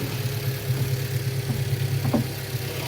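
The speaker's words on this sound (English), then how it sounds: "Show you what the intake noise sounds like." A Volkswagen Jetta engine idles steadily with a low, droning hum and a faint intake whoosh, close by, with a couple of small clicks.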